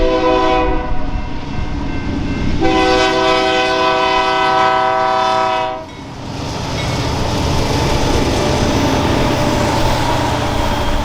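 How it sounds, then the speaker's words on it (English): A westbound BNSF grain train passes close at Cheney, Washington, amid pine forest, sounding a loud multi-tone horn in two long blasts over the steady rumble and rattle of rolling cars. "where another grain train is heading west"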